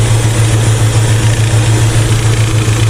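A Chevrolet El Camino engine running with no fuel, idling off the idle circuit: a steady, loud, low throbbing rumble with an even pulsing beat throughout, close by and with no voices.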